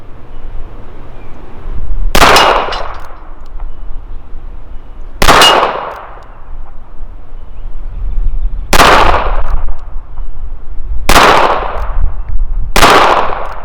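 Five sharp revolver shots from a Colt Cobra at a range target crack out loud and close, spaced irregularly a few seconds apart, each with a short ringing decay over steady background hiss.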